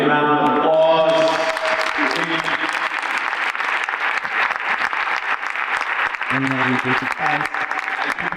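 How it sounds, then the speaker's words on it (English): Audience applause for award winners at a mayor's innovation award ceremony, continuous crowd clapping over music, with a brief spoken word near the end, loud and full. "let's give all our amazing winners another big round of applause"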